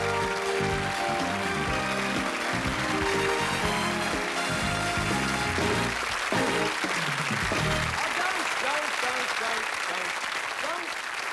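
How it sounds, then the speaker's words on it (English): Theatre audience applause welcoming a magician onstage, a loud continuous wash of clapping from a large crowd that lasts throughout, with music and a voice mixed in at the start. "I'd like you to really give him a nice big round of applause"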